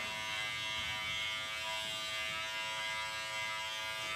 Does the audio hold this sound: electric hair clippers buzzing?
yes